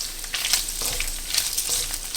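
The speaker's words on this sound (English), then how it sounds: "Already you can see the oil is already rendering out lah." Pork fat rendering into lard in a pan sizzles and crackles up close, with quick bright pops scattered over a steady frying hiss and no speech.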